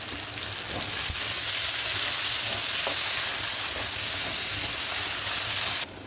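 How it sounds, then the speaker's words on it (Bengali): Diced potatoes fry in oil seasoned with turmeric and salt, a steady loud sizzle with occasional stirring that continues for about six seconds before dropping off abruptly at the end; no talking. "আলুটা একটু ভাজা করে নেব"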